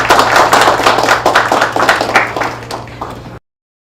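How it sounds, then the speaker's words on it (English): An audience applauding teachers at a recognition event, a dense wash of many hands clapping loudly and evenly for about three seconds before it cuts off abruptly. "So, another big round of applause."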